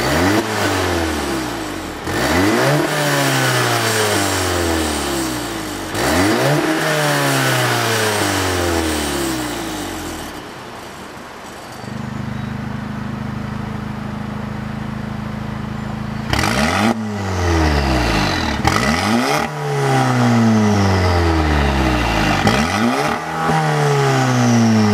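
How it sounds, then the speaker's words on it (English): A Volkswagen Mk7 GTI with a V-banded electronic exhaust cutout open behind a Unitronic downpipe, revving hard in a string of loud, close blips that rise and fall, with a steadier rumbling idle in the middle stretch. "This is extremely loud when it is open on the vehicle."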